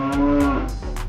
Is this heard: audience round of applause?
no